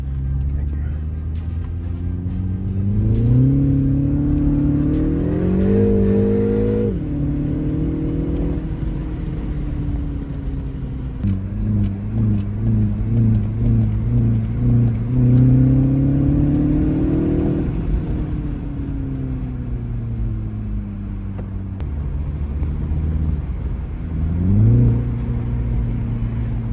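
A 2025 Mini Cooper S engine revs up and down repeatedly, pitch rising and falling in loud surges, with voices talking over it at times.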